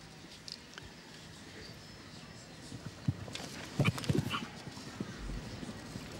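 Hooves of a show jumping horse on a Nations Cup course at La Baule, soft irregular thuds on the ground that grow heavier mid-clip as the horse takes off and lands, heard at a distance.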